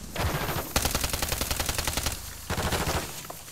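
Rapid automatic fire from the Striker in Warzone 3, a dense string of loud, evenly spaced shots in two long bursts with a short break between, close and unaccompanied by talk.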